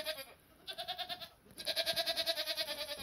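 A goat bleats inside a goat house, giving a short call and then two longer runs of rapid, wavering bleats, close and clear against a quiet pen.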